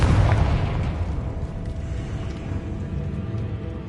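A Confringo blasting spell explodes in Hogwarts Legacy, a deep booming burst that hits loud at the start and then rolls on as a long rumbling tail under a low background drone.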